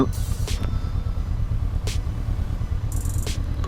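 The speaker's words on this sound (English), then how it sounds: "There's all kinds of traffic." Road traffic passing on a hot, busy Sunday afternoon in Cougar, heard from a 2019 Honda CB500X motorcycle: a continuous loud low rumble of engines and wind, with a few brief higher hisses of vehicles going by.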